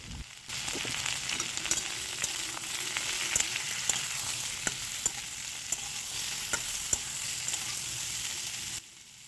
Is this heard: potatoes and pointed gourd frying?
yes